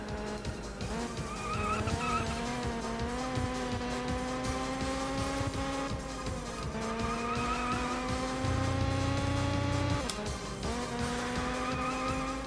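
Race cars in the Wii game GT Pro Series drone with a steady engine tone that rises and shifts through gear changes, with tire squeal and skidding mixed in the whole way through.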